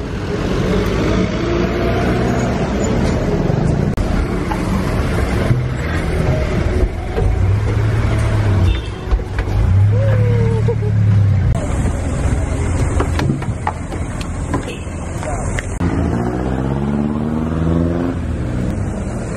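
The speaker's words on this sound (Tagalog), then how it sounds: "Nasakay kami ng jeep." Riding inside a jeepney, the diesel engine rumbles and revs with gear changes amid busy traffic noise, loud and continuous throughout, while people talk over it.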